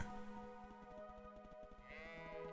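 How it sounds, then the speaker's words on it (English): A sheep in a Roblox game bleats in one drawn-out, wavering call that carries through the whole moment, loud and close. "Sheep!"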